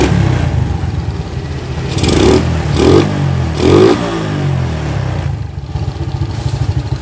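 A Suzuki Shogun 110 motorcycle engine, just after carburetor servicing, catches and runs close by, a mid-pitched clattering idle rising into several short throttle revs before settling back to idle.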